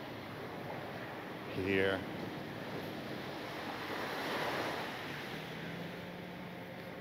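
Ocean waves rolling onto an Aruba beach, a broad surging wash that swells and recedes under wind buffeting the microphone, with a man's brief spoken remark partway through.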